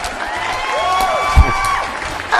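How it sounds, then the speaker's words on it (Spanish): A studio audience on a program applauds, with crowd noise, whistles or cheering tones, and a brief low thump partway through, fairly loud and close. "un aplauso para el programa"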